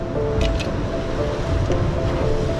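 Choppy ocean water at Lucky Bay near Esperance churns under strong wind, a loud continuous rush with wind buffeting the microphone and a few faint knocks.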